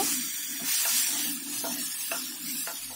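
Chicken with black pepper powder and green chili being stirred in a hot pan for a mustard green chicken soup, with a steady sizzle and a few distinct scraping strokes of the spoon, close and alone.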